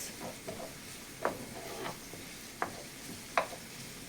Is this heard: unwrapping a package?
no